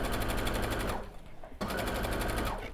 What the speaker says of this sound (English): we're going to put that under the machine and we're just going to do that one shoulder seam